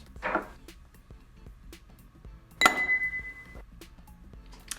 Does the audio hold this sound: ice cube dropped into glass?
yes